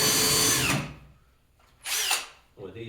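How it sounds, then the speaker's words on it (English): A power drill boring into LP SmartSide window trim whirs loudly in two bursts, the first long and the second shorter after a pause, with a voice speaking briefly at the end. "You got to pull the drill back out again."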